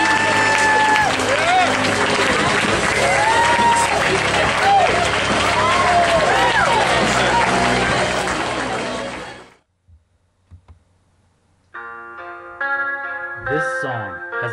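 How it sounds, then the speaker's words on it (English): Sustained applause from a seminary graduation audience honoring the faculty, loud and dense, fading out partway before music begins. "To all our seminary faculty, let's give them a great round of applause."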